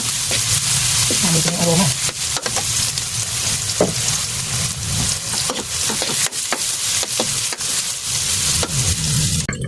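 Garlic and onion sizzle steadily in hot oil for batchoy, a loud continuous frying hiss broken by spoon scrapes and clacks as the pan is stirred, with a brief voice speaking over it.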